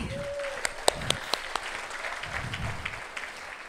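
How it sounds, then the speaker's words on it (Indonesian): Audience applause at an Indonesian marketing-plan presentation, a soft steady patter of clapping with a few sharper individual claps standing out, moderately distant and continuing evenly throughout. "Tepuk tangan ya buat Atomi."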